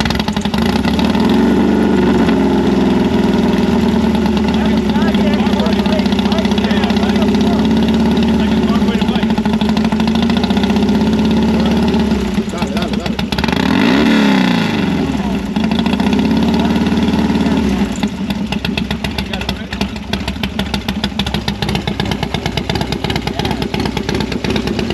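A carbureted motorcycle engine idles steadily and loudly close by, a continuous low rumble running throughout with people talking over it and a brief swell midway.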